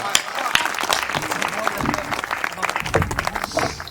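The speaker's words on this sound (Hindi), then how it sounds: "जोरदार तालियां बजाकर इस युवा का स्वागत करिए।" Loud applause welcomes a young poet at a Hindi poetry gathering. It is a steady patter of many hands with crowd voices mixed in.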